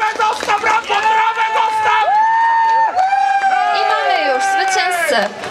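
Excited crowd at a village women's association contest, cheering and whooping loudly throughout with dense overlapping voices, shouts rising and falling over continuous babble.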